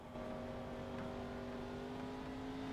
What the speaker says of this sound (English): I hear him revving the throttle like he's waiting to go.